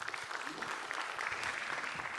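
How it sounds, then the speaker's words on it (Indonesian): A stand-up comedy audience bursts into applause, a dense steady wash of clapping at moderate volume that holds for a couple of seconds. "tepuk tangan dulu"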